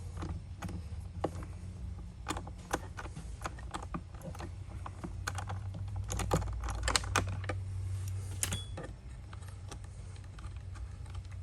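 A 1/2-inch socket wrench works loose a carry-on luggage anti-tip wheel bracket, making a quiet run of small, sharp ratcheting clicks that come in uneven bursts.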